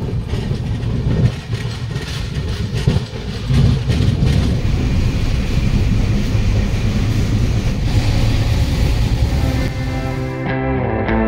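A Samudra Kanya Express train runs steadily on the line toward Digha, a loud continuous rumble of wheels and carriage noise throughout, with faint tonal squeals rising near the end.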